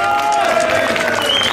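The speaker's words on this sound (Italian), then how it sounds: "Un applauso caloroso." Crowd applause for the winner of a slalom race, brief and warm clapping mixed with cheering and voices talking over it, with a whistling tone rising near the end.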